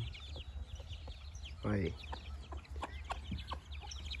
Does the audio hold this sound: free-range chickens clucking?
yes